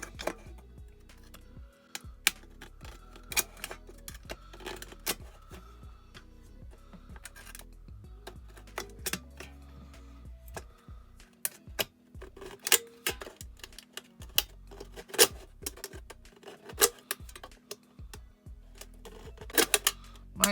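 An X-Acto knife cutting through aluminum can stock for a wind spinner craft: irregular sharp clicks and scratchy crackles repeat throughout, fairly faint and close, with no voices.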